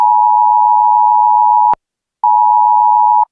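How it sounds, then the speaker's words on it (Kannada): Emergency alert tone on a mobile phone: a loud, steady single-pitch beep held for nearly two seconds, a short gap, then a second sustained beep, alone with no talking. "ಇವತ್ತು ಇಡೀ ದಿನ ಮತ್ತೆ ಇಂತಹ ಸದ್ದು ಮೊಳಗ್ತಾ ಇರಬಹುದು ನಿಮ್ಮ ಫೋನ್ನಲ್ಲಿ"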